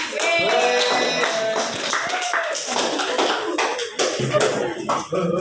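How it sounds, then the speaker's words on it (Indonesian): Students clapping together in a classroom during a practice teaching lesson, steady mixed claps and taps under ongoing voices, fairly close and loud throughout. "tepuk tangan dulu semuanya"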